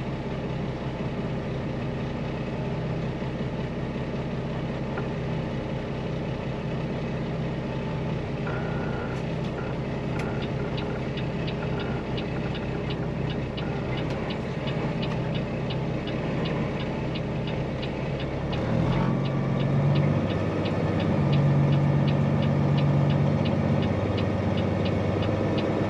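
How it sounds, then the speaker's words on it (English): A truck reverses into a spot behind a parked truck in a large parking lot. A heavy diesel engine idles and rumbles throughout, with faint reversing beeps. The engine swells louder near the end as it backs in close. "The truck backing in behind me."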